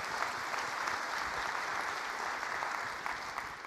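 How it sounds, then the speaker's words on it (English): Steady audience applause fills a hall at a surgeons' quality and safety conference, a continuous, even patter of many hands clapping at moderate distance with no voices over it. "you guys really should deserve a round of applause for that"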